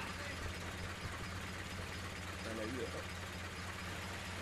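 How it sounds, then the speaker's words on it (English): A truck engine running in the FiveM video game, a low steady droning rumble heard faintly under people talking. "Just driving the truck."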